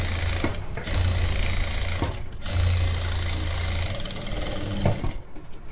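A sewing machine runs a flat stitch along a collar-neck blouse, a loud close mechanical whirring in three bursts with short pauses between them.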